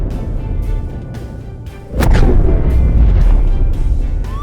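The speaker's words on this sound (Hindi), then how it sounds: "एक बड़े तारे की मृत्यु होती है तो ये एक सुपरनोवा के जैसे एक बड़े विस्फोट के साथ खत्म हो जाएगा" A supernova explosion sound effect: a low rumbling drone breaks into a sudden sharp boom at about the midpoint, followed by a loud sustained roaring rumble. No speech.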